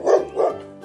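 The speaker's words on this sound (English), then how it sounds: "dog." A dog gives two quick barks in close succession, near and fairly loud, with nothing else around them.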